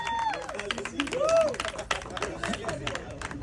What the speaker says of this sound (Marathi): हिच्यासाठी जोरदार टाळ्या